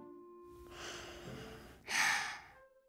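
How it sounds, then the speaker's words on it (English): Two deep, slow breaths, a gentle inhale followed by a louder, breathy exhale, heard close up and alone during a mindful calming exercise. "sit still, close your eyes, and take deep, slow breaths"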